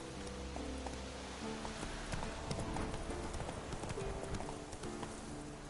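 Roach, Geralt's horse in The Witcher 3 on PS4 Pro, runs with quick, steady hoofbeats. The clip-clop is continuous and fairly close, over a soft background hiss.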